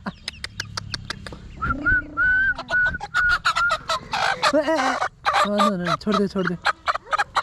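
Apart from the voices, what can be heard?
chickens and chicks clucking nearby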